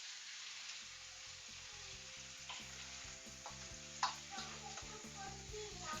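Sardines stir-fried with vegetables and tomato in a pan give a steady, quiet sizzle with occasional light clinks of a utensil, close by and without voices.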